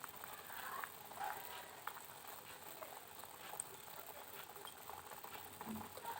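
Desi chicken curry broth with chui jhal simmering in a pot, a soft continuous bubbling patter heard close and fairly quiet throughout, with no talk over it.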